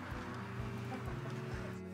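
Chickens cluck softly among other fowl in a barnyard during a farm animal photoshoot, with low repeated clucks under a steady hum of background noise and no talking.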